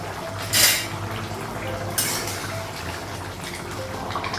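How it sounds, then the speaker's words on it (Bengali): A lid is lifted off a cooking pot in a home kitchen during a fish curry and ridge gourd meal, giving two short metallic clanks over a steady background hiss. "ঢাকা দেবো, ঢাকনা উঠাবো"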